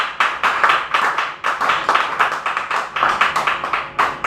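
A church congregation at a revival seminar claps together in a steady, rhythmic beat, loud and close, with no talking over it.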